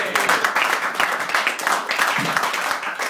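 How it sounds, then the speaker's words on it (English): An audience at a comedy show claps steadily, a dense, continuous patter of many hands that fills the whole stretch at an even, fairly loud level. "People clap at that"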